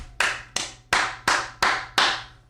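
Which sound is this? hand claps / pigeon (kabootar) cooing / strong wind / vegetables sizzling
hand claps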